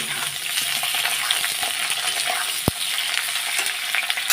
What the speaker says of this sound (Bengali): তো দিয়ে দিই ডাঁটা আর আলু। এবার একটু নেড়ে চেড়ে নিই।